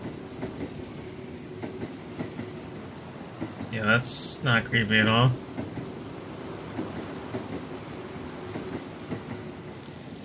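A train rumbles past in the horror video game Burgers and Frights, a steady low clatter with a sharp burst midway, and a person speaks over it.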